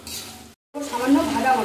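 Banana flower curry with prawns sizzles and is stirred in a pan, a close frying hiss broken by a brief silent cut, then resuming with scraping stirs.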